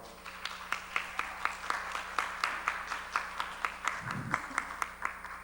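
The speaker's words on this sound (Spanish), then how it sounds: "Un fuerte aplauso, por favor." Audience at an academic forum on international relations giving applause, heard as regular, fairly quiet, rhythmic claps from a small group over a steady low hum, with a brief voice partway through.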